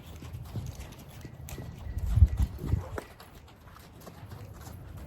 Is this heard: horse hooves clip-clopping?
yes